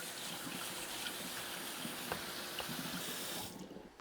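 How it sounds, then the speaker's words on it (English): Cold tap water runs steadily over cooked lasagna pasta sheets in a kitchen sink, a broad continuous splashing rush that cuts off abruptly near the end. "Rinse it with cold water."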